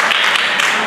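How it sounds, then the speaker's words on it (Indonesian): Crowd applause, a dense steady patter of many hands clapping during a Maulid Nabi religious sermon, filling the short moment without a break. "Tepuk tangan, Bu."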